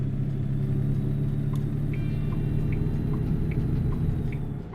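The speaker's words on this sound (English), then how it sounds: "this is the best engine sounds that you're going to hear" Diesel truck engine in American Truck Simulator, driving through Louisiana, holding a steady deep rumble with a continuous low drone and faint higher whine, loud and constant throughout with no talk.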